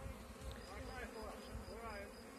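Honeybees buzzing steadily in an opened hive during queen cell selection, a dense close hum that stays even throughout the short moment.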